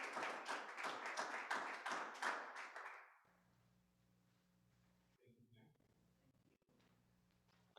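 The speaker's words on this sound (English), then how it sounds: "please give a round of applause for Dr. Daryl Heller." An audience at a poetry event claps briefly with a dense, quick patter that is loud and close for about three seconds. The clapping then stops abruptly, leaving a quiet room with a low hum and faint sounds of movement.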